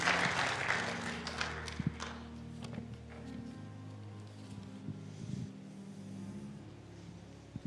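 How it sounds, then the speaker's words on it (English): An audience at a church service applauds, a burst of clapping at the start that thins and fades into a quiet room over several seconds. "let's give them another round of applause"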